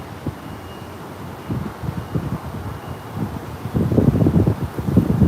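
Gusty wind buffets the microphone, growing stronger toward the end, with no voices.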